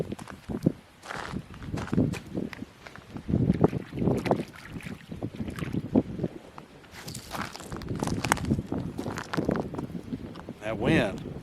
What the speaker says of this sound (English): That wind, I'm telling you. Just wish it would stop with the whole blowing all the time stuff